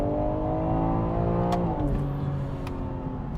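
A 2021 BMW M3 Competition sedan with a 3.0 engine and about 500 horsepower accelerating hard, its engine note rising steadily through the revs, with a brief shift-like break midway and continued pull afterward.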